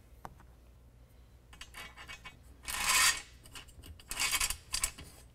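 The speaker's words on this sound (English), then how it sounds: "we're going to insert 8 of those nylock nuts into this channel" Nylock nuts slid into the rail channel of a Gator Recoil retractable tonneau cover on a Ford F-150, giving faint metallic clicks and scraping rattles in a few short bursts, close and quiet.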